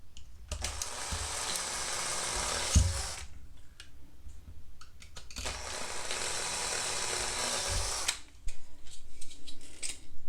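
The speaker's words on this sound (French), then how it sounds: "Un forêt en M3. On va venir le tenir pour que ce soit bien mis. Et là, on va venir percer." An M3 bit drilling into a Bruder model kit part for a Cat telehandler conversion, heard as two sustained whirring, grinding bursts of several seconds each with a brief pause between them, close and fairly loud.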